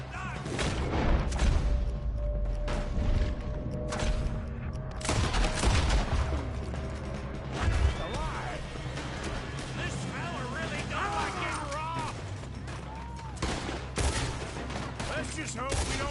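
Rapid bursts of gunfire and heavy booms fill a chaotic shootout in Red Dead Redemption 2, shots crackling near and far almost without pause while shouting voices cut through the fighting.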